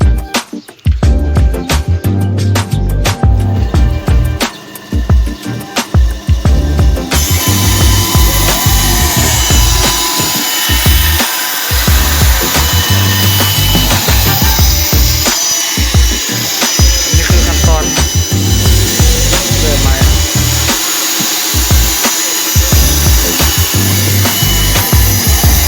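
A saw cuts wood while a model long boat is being built, giving a continuous, loud rasping grind that runs throughout with brief dips and restarts.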